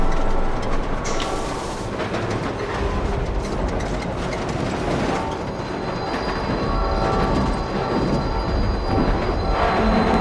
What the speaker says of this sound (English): then we start hearing that train coming